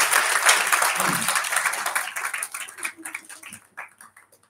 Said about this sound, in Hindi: एक बार पुनः तालियां दे दीजिए